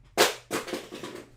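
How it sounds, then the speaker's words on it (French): A telephone falls with a sharp clatter, a second knock following, then a brief rattling settle. It is close and fairly loud, with no talk. "c'est le téléphone qui tombe"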